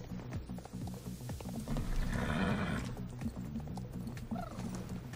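A horse in the Star Stable online riding game neighs loudly over a steady clip-clop of hooves and background game ambience, a continuous layered soundscape with no talking.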